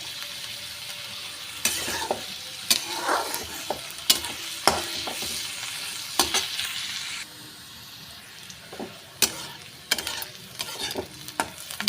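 Onions frying in a pan until reddish brown, a continuous close sizzle broken by repeated sharp clacks and scrapes of stirring at irregular intervals, with no voices.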